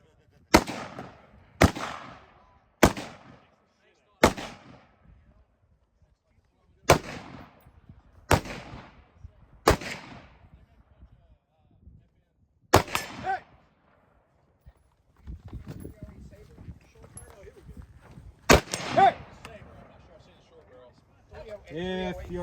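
A .308 rifle fires at a 2-gun match, about ten sharp, loud shots spaced roughly a second or two apart, each with a short ringing tail. Other people talk quietly between shots.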